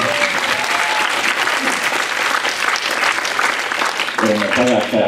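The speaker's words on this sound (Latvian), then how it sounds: "Aplausi fórumam!" A forum audience at a national youth policy event applauds, dense loud clapping throughout with a voice coming in near the end.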